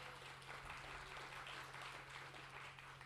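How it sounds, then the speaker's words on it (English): Steady, fairly faint applause from an audience at a symposium keynote, a continuous wash of clapping with a low steady hum underneath and no talk. "Let's give him a round of applause."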